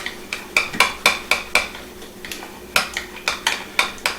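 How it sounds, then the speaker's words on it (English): Ingredients for a shrimp appetizer dip are stirred in a bowl with a utensil, producing a steady run of sharp, close clinks and scrapes in an even rhythm with a short pause midway. "Now let's mix this together. This is going to be our dip."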